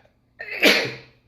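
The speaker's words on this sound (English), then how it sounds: "He's influencing me to sneeze right now, trying to throw me off." A single close, loud human sneeze, a short sharp inhale followed by an explosive burst that fades within about a second, heard alone with no talk.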